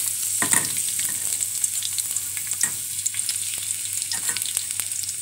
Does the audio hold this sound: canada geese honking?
no